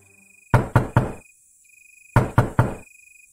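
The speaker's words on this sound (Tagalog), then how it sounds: "biglang may malakas na kumatok" Loud knocking on a wooden door at night, two bursts of three sharp, evenly spaced raps separated by a short pause, close and clear against near silence.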